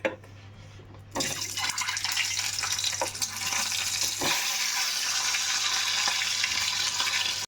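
Eggs for Bengali-style egg kosha hit hot oil after a near-silent moment, bursting into a loud, continuous sizzle that crackles steadily in close range without any speech.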